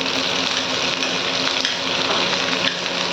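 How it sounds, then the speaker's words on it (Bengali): Capsicum and large-cut onion pieces shallow frying in oil, a loud continuous dense hiss of sizzling close by, steady and unbroken, with no voices. "এটাকে একটু শ্যালো ফ্রাই করে নেব"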